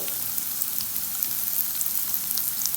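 Garlic sautéing in a pan for an instant garlic pickle, giving a steady, close sizzle of frying with light crackles and no talking.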